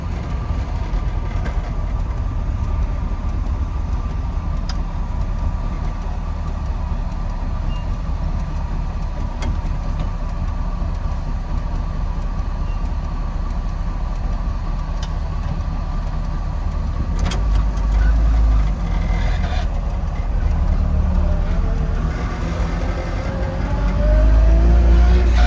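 A Trabant car's engine runs steadily while driving through Berlin streets, a loud continuous low drone heard from inside the car with slight swells as it pulls away, and no one speaking.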